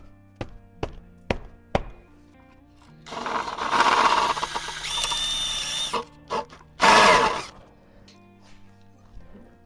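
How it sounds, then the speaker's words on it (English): A power drill bores into a stuck screw on the speed sensor of a VW MK6 Jetta GLI, preceded by a few sharp metallic clicks, then two loud, sustained grinding bursts with a brief pause between. "So I've been drilling it out and I have another screw in there"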